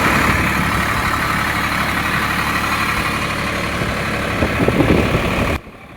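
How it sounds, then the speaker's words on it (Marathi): A Swaraj 742 tractor engine runs steadily and loudly at close range, a constant dense rumble with no talk, cutting off abruptly near the end. "ट्रॅक्टरचा आवाज जास्त येत होता"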